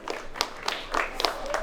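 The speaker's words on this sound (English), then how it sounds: "Can we give him a round of applause?" Audience applause at a mental health talk, a short burst of scattered clapping from a modest crowd with a few sharp claps standing out.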